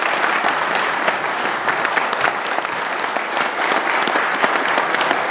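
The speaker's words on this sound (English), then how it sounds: "And a round of applause," Loud, dense audience applause after the Wausau mayoral debate hosted by Wisconsin Public Radio, a sustained crowd of clapping hands close and even throughout, with no speech over it.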